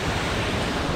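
Waterfall at Glen Eden Family Farm campground used as a full-body shower: a steady, loud, close rush of falling water fills the whole moment with no voices.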